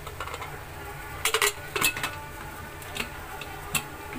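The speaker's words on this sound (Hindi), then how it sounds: "तो चलिए अब मैं इसमें ढक्कन लगा देती हूँ कुकर में।" A few sharp metallic clanks and clicks of a lid being fitted onto a metal pressure cooker, close by in a quiet room.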